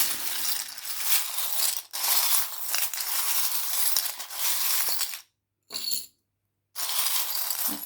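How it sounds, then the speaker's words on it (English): Small doll's house items shuffled in a bowl, giving a close, continuous rattling clatter that stops for two brief silences near the end. "I have some new items in the bowl. So I'm going to give them a shuffle up"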